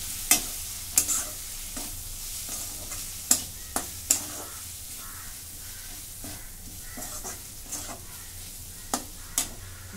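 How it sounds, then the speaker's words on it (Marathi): Spices including garam masala and a homemade masala blend are stirred into bitter gourd in a frying pan, with a soft sizzle under repeated sharp scraping strokes of the spoon, close up and with no voices. "गरम मसाला, घरचा थोडा मसाला, हे सगळं मिक्स करून घेते."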